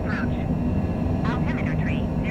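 A Cessna Citation Longitude business jet on its takeoff roll at Santa Fe, New Mexico, on a clear day: a steady, loud, broadband engine and rolling roar with faint voices over it.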